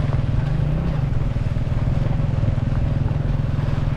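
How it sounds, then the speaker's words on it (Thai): A passenger bus rides through rural Khammouane province in Laos, its engine a loud, steady low drone with constant road and wind rumble and no clear talking. "เดี๋ยวบรรยากาศรถโดยสารนะครับ"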